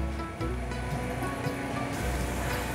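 Wontons pan-frying slowly in a pan give off a steady, close sizzle like light rain, with a low hum beneath it throughout.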